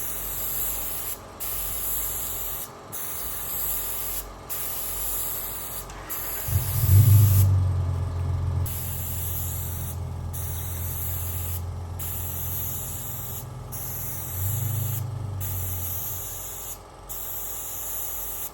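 A spray gun hisses in long, even bursts across a Land Cruiser FZJ 80 Series bonnet, broken by short pauses between passes, with a low rumble of equipment underneath and no speech.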